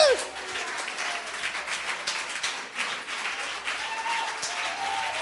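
Church congregation applauding the Lord during a sermon, a steady wash of many hands clapping at moderate distance throughout, with a shout or voice briefly rising over it.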